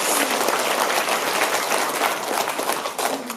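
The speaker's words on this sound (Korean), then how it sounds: "트루먼 대통령에게 감사의 박수를" A church audience at a memorial worship service praying for national reunification bursts into applause. Full, close clapping from many people holds strongly throughout, then thins slightly near the end.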